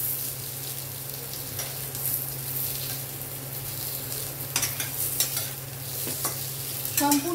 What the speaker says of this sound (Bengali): সেজন্য পটলগুলো আমি ভেজে নিচ্ছি।